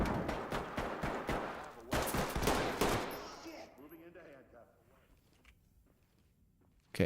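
Video-game gunshots ring out in a rapid, loud burst of sharp cracks for about three seconds, then die away into a quiet, low-level ambience.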